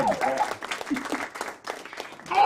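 A studio audience claps to welcome a guest onto a TV show, a dense, steady patter of many hands with voices calling out over it throughout.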